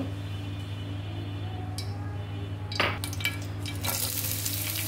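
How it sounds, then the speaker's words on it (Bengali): Onions and green chilies frying in oil for a prawn and bitter gourd dish, a steady low hiss under a constant hum, with a few stirring scrapes and a brighter sizzle swelling toward the end. "পেঁয়াজ কাঁচামরিচ দিব, ভেজে নেব"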